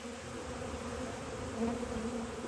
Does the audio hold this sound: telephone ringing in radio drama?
no